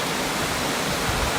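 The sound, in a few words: Little Missouri River Falls waterfall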